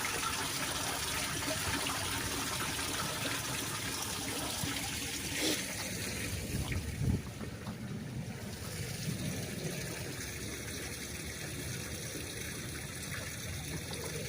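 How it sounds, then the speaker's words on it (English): Runoff water runs off stone slabs into a low lake in the woods, a steady close trickling and gushing wash that continues throughout with no one speaking. "You got one of these, that water's actually running in."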